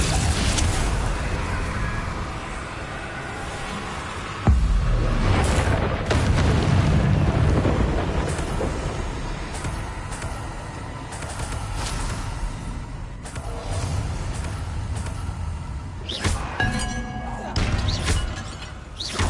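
Bombarda spell explosions in Hogwarts Legacy, several loud booming blasts and crashes spread across the stretch, with rumbling debris between them and a shouted spell name.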